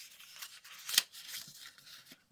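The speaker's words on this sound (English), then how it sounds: "I need to cut another piece for another hinge." Scissors cutting a paper piece for a journal hinge, a few close, quiet snips with one sharper cut in the middle, no talk.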